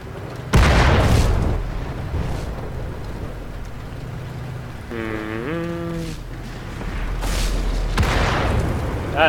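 Artillery shells in the World of Tanks video game explode around a Pz.Kpfw. V/IV tank, with a heavy, close boom at the start and another rumbling impact near the end over low engine noise.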